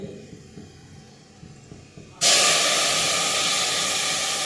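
After a quiet moment, a sudden loud sizzle bursts out as tempering spices hit hot oil for kadhi, then keeps hissing steadily and close.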